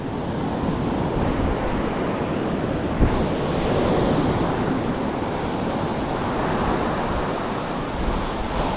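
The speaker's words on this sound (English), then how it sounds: "you're going to be cruising up and down this shore break, just behind the breaking waves" Ocean waves breaking in the shore break on a beach near Dunedin, a loud continuous wash of surf with wind buffeting the microphone and a brief bump partway through.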